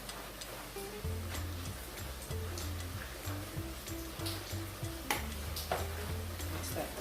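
Meat sauce for spaghetti is stirred in a pan with soft, rhythmic scraping and a faint sizzle, quiet and close, with no talking.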